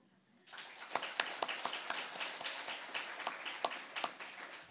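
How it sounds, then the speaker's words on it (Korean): An audience at a church lecture breaks into brisk, dense applause after a short quiet moment. Many sharp claps land close together in a loud, sustained burst. "그럼 자신에게 박수."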